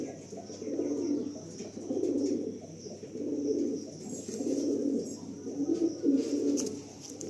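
Tournament-quality pigeons, a male and female pair kept for sale, coo close by in a steady series of deep rolling phrases, about five swelling pulses in a row, with faint background noise and no speech.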